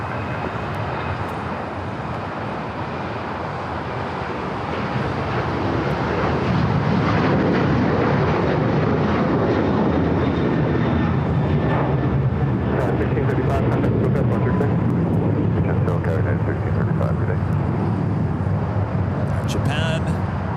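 A Japan Airlines heavy jet on its takeoff roll at LAX, a broad engine roar that swells after the first few seconds and holds loud and steady, heard from a distance with some nearby clicks.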